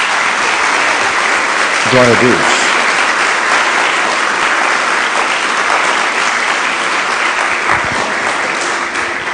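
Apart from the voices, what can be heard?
church congregation applause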